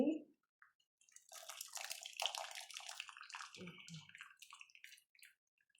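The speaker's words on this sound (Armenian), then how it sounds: "սարը ջուր կլցնեմ վրա" Water pours and trickles into a bowl for a few seconds, close and fairly quiet, with a short splash at the start.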